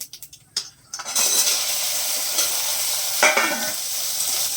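Taro (kochu) pieces fry in a pan after a few light clatters of handling. A loud, continuous sizzle then takes over, with a brief burst of stirring partway through.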